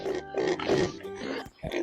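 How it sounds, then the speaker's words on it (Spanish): A pig grunts and snorts in a quick run of rough, close, fairly loud bursts, nearly continuous with a brief pause near the end. "Adivinaste, es el cerdo."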